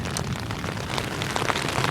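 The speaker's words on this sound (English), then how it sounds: "And it's raining, and wind's pretty picking up." Rain falling on a small camping lean-to in picking-up wind, a dense, crackly patter of drops with scattered louder taps, close and continuous with no voices.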